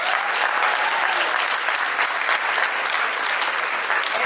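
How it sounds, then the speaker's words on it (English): Steady, dense applause from an audience at a tech session, many hands clapping evenly for the full stretch without pause. "let's go ahead and give them a round of applause"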